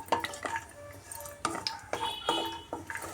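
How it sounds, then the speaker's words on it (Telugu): Dry fruits frying in ghee in a pan for almond halwa are stirred with a utensil, giving a series of light scraping clinks and taps in an irregular rhythm, close and fairly quiet, over a soft background sizzle. "కొద్దిగా నెయ్యి వేసుకుందాము మనము డ్రై ఫ్రూట్స్ బాగా ఫ్రై చేసుకుందామండి"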